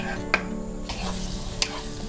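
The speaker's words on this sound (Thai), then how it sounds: "พอน้ำมันเริ่มร้อนนะคะ ก็จะเห็นว่า กระเทียมเขาจะปุดๆแบบนี้นะคะ" Garlic fries in hot oil, a steady soft sizzle and bubbling with a couple of sharp clicks from a stirring utensil against the pan, close and without talk.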